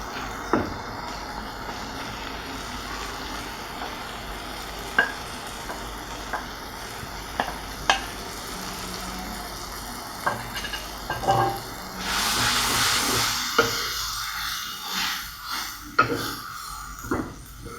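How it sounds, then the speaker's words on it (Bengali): Taki fish and onions frying in hot oil, a quiet steady sizzle with scattered clicks and taps from utensils, rising into a louder burst of hissing near the end. "পেঁয়াজ ভাজার পর তেল উপরে উঠে আসলে আমি টাকি মাছগুলো ঢেলে দেব।"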